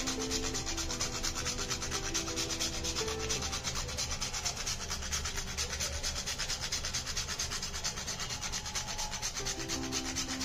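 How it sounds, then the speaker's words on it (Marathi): Dry ginger (sunth) rubbed against a grater for thandai masala, a continuous, close, rhythmic rasping scrape that repeats steadily with no voices. "आणि जी सुंठ आहे ती सुद्धा आपण किसून घालणार आहोत।"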